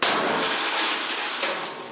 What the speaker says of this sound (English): who shatters a vending machine with his crystal ball after predicting free Doritos for everyone in the office